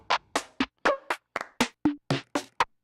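About ten crisp clap samples from a drum machine, triggered one at a time at a steady quick pace, each a short bright burst, loud and dry with silence between hits.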